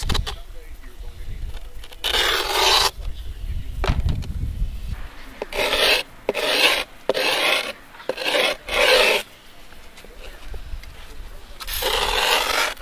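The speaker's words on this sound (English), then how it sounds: "I'm going to go ahead and file this down right now" A file rasps repeatedly along the edge of griptape on a skateboard deck, in a series of close, loud, gritty strokes, with pauses between them as the rhythm quickens. Someone talks between some of the strokes.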